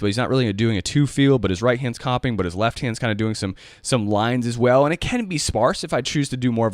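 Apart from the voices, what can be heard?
No everyday noise stands out behind the speech.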